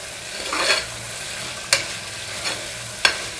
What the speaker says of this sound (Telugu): ఇలా కొంత మీడియం ఫ్లేమ్లో మనము ఈ ముక్కలు వేగేంత వరకు స్టవ్ని మీడియం ఫ్లేమ్లో